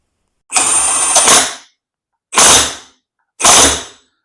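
A Milwaukee M18 FHIW2F12 impact wrench running in automatic mode, loud and close, firing three rattling bursts: a longer first run of about a second, then two shorter ones, separated by silence.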